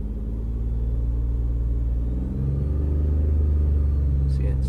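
Car engine fitted with a newly installed Megasquirt fuel injection system idles with a steady low rumble, then swells as the throttle is pressed a little, holding a slightly higher, louder drone nearby.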